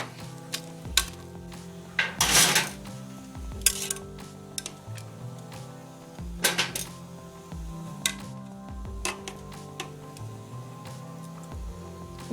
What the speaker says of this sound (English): So I'm going to put all the sticks on here and plop them in the oven.